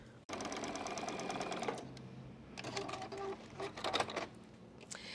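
A sewing machine stitches a quilt seam in rapid, steady mechanical bursts, running loud and continuous, pausing briefly, then resuming in shorter runs with small clicks at the end.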